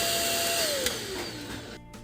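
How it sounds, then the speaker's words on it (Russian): Redmond RV-UR361 cordless stick vacuum cleaner, 25.9 V and 240 W, whose brush reportedly won't spin, whining loudly and steadily with its motor pitch sliding down, then a brief clattering change near the end. "ручной вертикальный беспроводной пылесос Redmond, модель RV UR 361"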